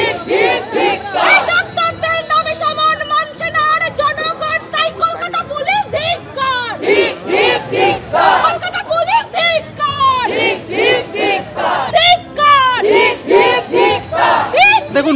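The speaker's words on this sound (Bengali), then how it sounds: "মেডিকেল কলেজ থেকে বউবাজার থানা পর্যন্ত আজকে মিছিল করেন আন্দোলনকারীরা" Doctors' protest march from a medical college to Bowbazar police station in Kolkata, a large crowd loudly chanting slogans in rhythmic call-and-response bursts, close and continuous.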